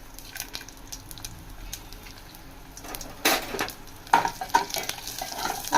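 Mustard seeds, cumin and dried chilies fry in oil with a soft steady sizzle, broken by stirring scrapes and a few louder clinks of a utensil against the pan toward the end.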